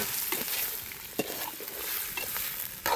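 Pork pieces sautéing in hot oil in a pan give a steady, close sizzle, broken by a few sharp scrapes and clicks of stirring, with no voices.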